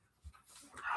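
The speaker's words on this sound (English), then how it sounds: "a poodle in the room." A poodle panting in a room, short quick breaths rising toward the end of a brief moment, close and soft, with a faint low thump early on.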